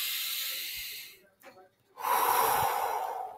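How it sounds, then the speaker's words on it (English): A person breathes in and out near the microphone: a long airy inhale, a short pause with faint breath noise, then a stronger, hissing exhale. "So take a breath."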